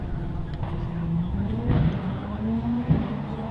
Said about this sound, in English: And away from the start line is Joy Hoyle, sharing the Ash Mason Supercharged Westfield this season